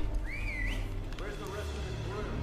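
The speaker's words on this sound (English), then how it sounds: "I thought I did the whistle and called them in all that." A short rising-and-falling whistle, the signal for calling the crew in the Tomb Raider video game, sounds once near the start over a steady background of game ambience and low rumble.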